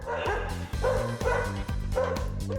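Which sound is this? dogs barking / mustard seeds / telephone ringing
dogs barking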